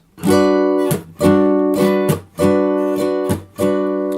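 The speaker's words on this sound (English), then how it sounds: "when I have a strumming pattern like this" Indie guitar strumming pattern with gaps: bursts of bright chord strums separated by short pauses and muted scratches, close and loud, without voices.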